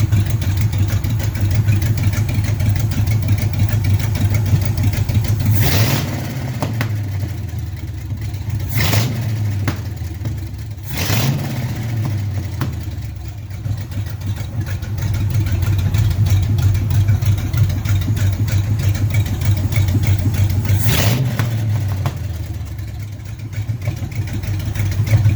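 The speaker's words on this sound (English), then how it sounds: "we've got a video of the V8 running on the floor" A French flathead V8 engine swapped into a Ford Model A pickup runs on a garage floor, a loud steady idle with several sharp revs rising and falling, no talk over it.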